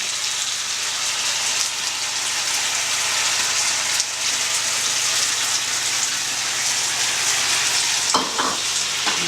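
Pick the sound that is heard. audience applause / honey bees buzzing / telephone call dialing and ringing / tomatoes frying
tomatoes frying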